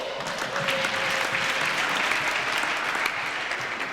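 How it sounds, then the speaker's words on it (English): A crowd at a youth basketball game applauds steadily, dense clapping that holds at an even level throughout, with no voices standing out. "have another round of applause for the cheerleaders for the Bulls"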